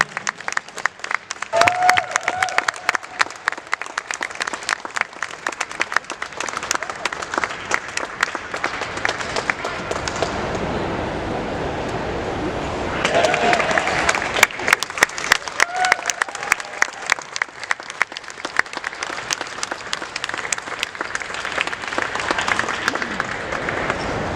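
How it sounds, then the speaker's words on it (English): Sustained audience applause fills a press briefing at a Star Trek convention, dense and steady clapping from a large crowd lasting over twenty seconds, swelling briefly partway through with faint voices underneath. "please give a round of applause"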